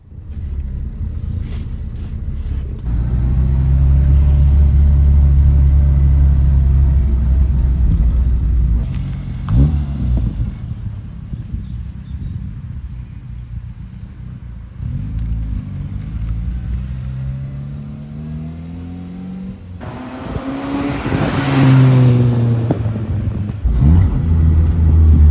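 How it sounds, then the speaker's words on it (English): A classic Mini's engine and aftermarket exhaust drone loudly inside the cabin while driving, with revs rising and falling through gear changes and steady road and wind noise underneath. "noise from the different exhaust systems fitted"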